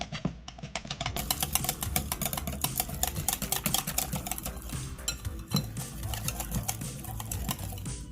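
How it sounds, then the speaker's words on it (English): Sugar cookie dough is mixed in a bowl with a rapid, steady clatter of utensil against the bowl, close and continuous throughout, with no voices. "I'm gonna mix until there are no lumps showing."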